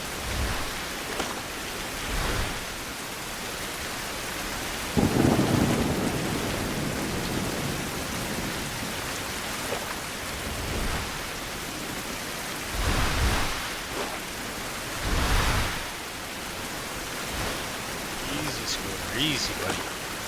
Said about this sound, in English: I don't know if it's supposed to be like this, like raining all the time